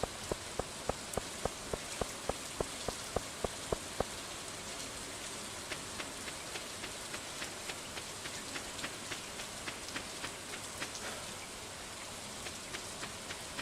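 Rain falls in the farming game Stardew Valley, a soft, steady patter of drops on surfaces, with a row of regular ticks at first and then a fainter, even shower running on alone.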